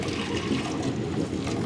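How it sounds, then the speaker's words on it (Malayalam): Jaggery syrup poured into an uruli pot set back on the stove while cooking payasam in a Kerala village kitchen, giving a steady, continuous liquid rush with no talk. "ശർക്കര നീര് ഒഴിക്കാം കേട്ടാ."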